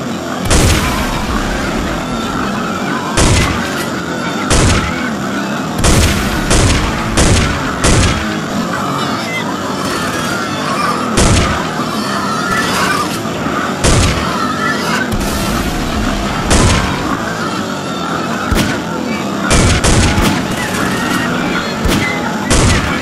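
Gunfire rings out as a string of sharp, loud cracks at irregular intervals, some grouped in quick pairs, over a dense and constant background roar.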